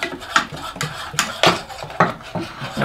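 Bicarb soda being stirred into hot honeycomb toffee in a pot, a utensil scraping and clinking in quick irregular strokes, close and fairly loud with no talking.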